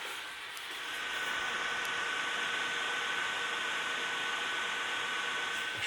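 A Vloxo face visor's built-in fan runs with a steady, close airy whir and a faint thin whine on top, rising over the first second and then holding level without a break.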